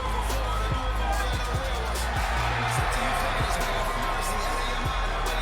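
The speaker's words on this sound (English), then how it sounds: "Getting a good pop from the crowd." Wrestling crowd at a men's melee tournament roars steadily throughout, a dense wash of cheering and shouting with scattered thumps and bangs underneath.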